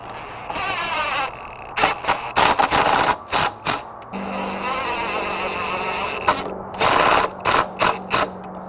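Clamps are cranked down on a wooden window stool and jamb assembly, giving loud, close ratcheting clicks in bursts that alternate with steady mechanical whirring.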